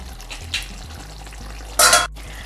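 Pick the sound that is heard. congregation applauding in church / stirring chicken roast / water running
stirring chicken roast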